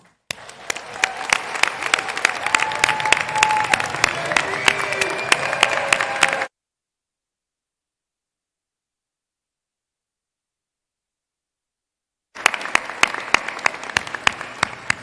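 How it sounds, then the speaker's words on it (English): A large crowd of nursing graduates and their audience applaud at a university graduation ceremony, loud sustained clapping that stops abruptly, then resumes after a silent gap. "please stand and give yourselves a round of applause"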